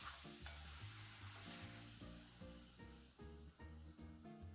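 A homemade Mexican pizza shell fries in oil in a pan, giving a steady close sizzle and crackle under light background music, with no talking.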